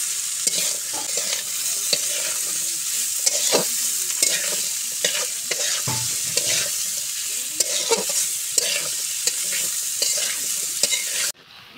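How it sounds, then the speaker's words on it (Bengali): Thin-cut potatoes are sautéed with fried onions in a pan, a continuous sizzle broken by frequent spatula scrapes and taps, ending with an abrupt drop in sound. "পেঁয়াজ কষানো হয়ে গেছে, এবার আমি আলু দিয়ে দেবো।"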